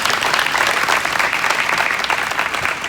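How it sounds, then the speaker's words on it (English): Parents in the audience at a Santa Cruz Emerging Leaders Certification Program commencement ceremony applaud steadily, a dense, sustained wash of clapping from many hands that holds evenly for about three seconds. "Parents, give yourselves a round of applause as well"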